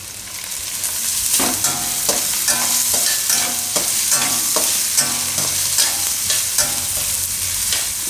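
Garlic, ginger and sliced onion frying in a pan while being stirred, loud close sizzling with a rhythmic series of scraping and clinking strokes from the spoon, all without voices.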